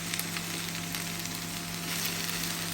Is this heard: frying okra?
yes